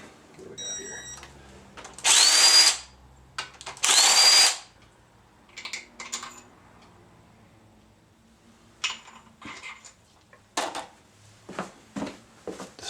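Power tool, likely an impact wrench, spinning off the main cap bolts on a high-mileage Chevy 5.3 LM7 V8 engine: two loud, whining bursts of a couple of seconds each, then scattered clinks and clunks of the cap and bolts being handled.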